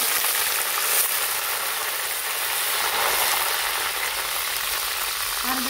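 Hot oil in a kadhai sizzles loudly and steadily as curry leaves, cumin and mustard seeds fry in it, a continuous crackling hiss close by.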